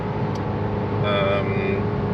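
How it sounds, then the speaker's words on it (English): A Mercedes W201 190D diesel car drives with a steady, loud low engine drone and road rumble, a brief tonal whine rising in the middle. "the car is driving"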